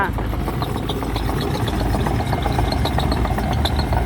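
A Caterpillar CAT 313D2 GC excavator engine runs steadily nearby at an idle-like drone, with a continuous low rumble under faint background noise and no clear speech.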